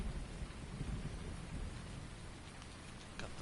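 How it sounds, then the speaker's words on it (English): Thunder rolls through a steady downpour in the Farming Simulator 19 farming game, a loud, continuous wash of rain and low rumbling with no talk. "Got the thunder cracking in my headphones."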